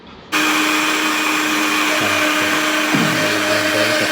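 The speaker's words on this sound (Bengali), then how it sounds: "আমি এটা ব্লেন্ড করতেছি" Electric blender grinding pomegranate with its peel, a loud steady motor whir that starts abruptly and holds, with slight pitch dips as the load shifts.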